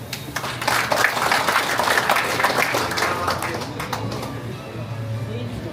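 An audience at a community town-hall meeting claps as guests are introduced, a sustained wash of applause that tapers off while an announcer's voice carries over it.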